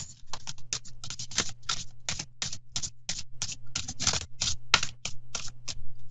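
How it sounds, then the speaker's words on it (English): A large deck of playing cards being shuffled by hand: rapid, irregular bursts of crisp riffling and patter, close and steady, with no talking. "It's hard to shuffle and not drop them all."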